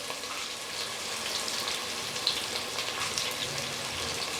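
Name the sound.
sliced onions sautéing with salt in pan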